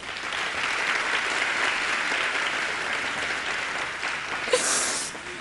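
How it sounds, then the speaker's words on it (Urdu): An audience applauds the A Plus team at a Sana Khawani quarter-final event, giving steady, dense clapping throughout with one brief sharper accent near the end. "سب اے پلس کی ٹیم کے لیے تالی بجا دیجیے"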